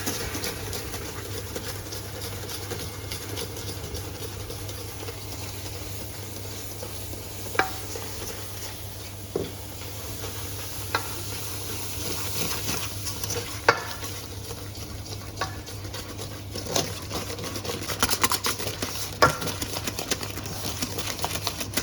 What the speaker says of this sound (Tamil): இந்த பிஸ்தாச்சியோ மிக்சரில் வந்து நம்ம நைட்ரஜன் ஆட் பண்ணுவோம்